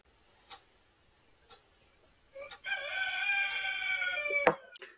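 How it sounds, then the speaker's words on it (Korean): A rooster lets out one loud, prolonged crow nearby after a few faint ticks, ending with a sharp click, on a rainy spring day. "또 닭이 소리 지르네요."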